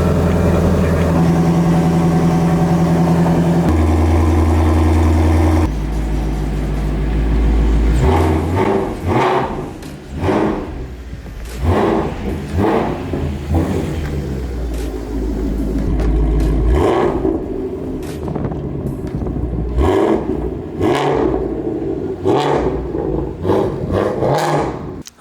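A car that has sat unstarted for about two weeks rumbles as its engine turns over and catches, then idles and revs in repeated surges close by, with no talk over it.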